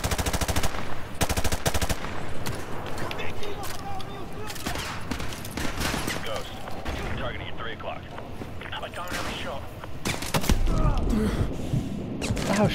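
Dense automatic gunfire and explosions in Call of Duty: Modern Warfare 2 on a veteran-difficulty campaign level, loud rapid bursts throughout with voices shouting over the firing.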